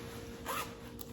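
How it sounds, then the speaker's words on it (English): A zipper on a pair of leggings is drawn open in one short, quiet rasp up close, with no talking over it. "Looks like it's got a zipper in the back"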